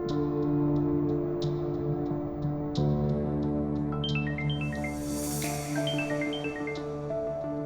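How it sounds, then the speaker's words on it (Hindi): A phone rings out on an outgoing call in an Urdu-dubbed Turkish drama, a repeating electronic ringback pattern of short tones over a steady hum, with a rising cluster of chiming notes toward the end and no talk. "रमीज को फोन करती हूँ।"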